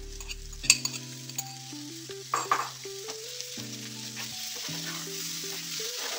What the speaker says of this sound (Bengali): দিয়ে ভালো করে এটাকে আমি কষে নেবো এখন